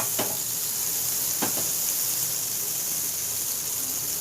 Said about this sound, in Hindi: तवा गरम हो गया है, हम हमारा बटर इसमें डाल देंगे